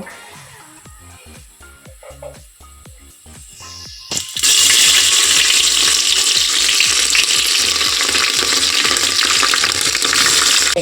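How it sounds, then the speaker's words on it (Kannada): Onions and green chillies hitting hot oil in a pan for vegetable pulao, quiet clinks and knocks giving way to a loud, dense, steady sizzle that continues to the end, close, no voices. "ಗೋಲ್ಡನ್ ಕಲರ್ ಬರೋವರೆಗೆ ಈರುಳ್ಳಿ ಫ್ರೈ ಮಾಡ್ಕೊಳ್ತಾ ಇದ್ದೀನಿ"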